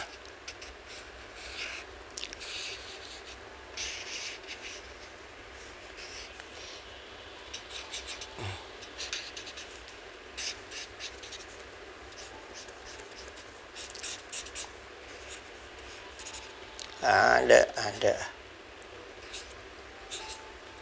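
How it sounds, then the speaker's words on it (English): A blue pen drawing on paper, making soft scratchy strokes that come in bursts with pauses between them, close and quiet, with a brief louder rustle near the end. "The blue pen, I show you. I draw it like this."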